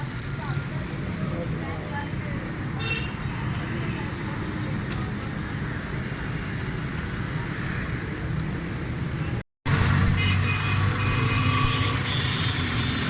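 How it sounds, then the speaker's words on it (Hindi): A Daihatsu Cuore engine that had been burning too much fuel runs steadily after a carburetor repair, with a constant near idle hum and a brief cut before it carries on. "गाड़ी सुन हर चीज़ ज़बरदस्त है।"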